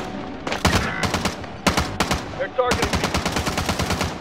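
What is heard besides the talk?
gunfire from guns in a video game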